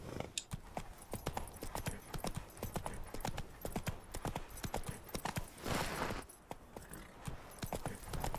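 A horse canters in the Toussaint region of The Witcher 3: Blood and Wine, its hooves striking in a quick, even rolling rhythm, near and distinct, with a brief swell of wind or ambience midway.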